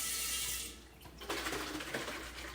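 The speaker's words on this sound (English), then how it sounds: "I'm going to add a little bit of cold water" Cold water pours into a glass canning jar of store-bought orange juice: a rushing tap-like flow fades, then a brighter splashing trickle follows, close and alone without talk.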